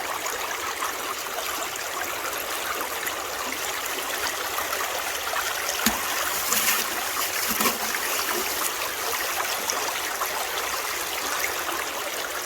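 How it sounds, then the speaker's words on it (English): Water runs steadily through a gold prospecting sluice box outdoors, a constant close rushing and splashing with a few brief knocks, no voices. "Running a sluice box is still my favorite way of doing this."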